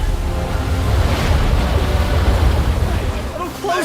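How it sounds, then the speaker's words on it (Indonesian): A big cartoon ocean wave surges and crashes in a loud, rushing roar of churning water and wind, close and continuous, with a brief voice near the end. "dan di saat yang sama ombak besar datang"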